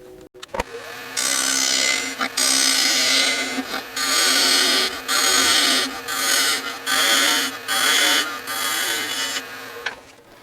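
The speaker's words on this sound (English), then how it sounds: "I'm going to do that with a just a spindle gouge." A spindle gouge cuts a tenon on a spinning wood lathe, producing loud close bursts of buzzing, scraping cutting noise in repeated passes with brief pauses between, no talk.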